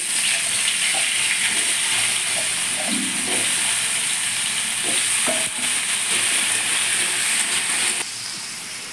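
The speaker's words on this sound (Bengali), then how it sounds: "আলুগুলো আমি ভেজে নেব।" Potatoes frying in a pan of leftover fish-frying oil with white cumin seeds, a steady loud sizzle and hiss running the whole time with occasional stirring clinks, easing off slightly at the end.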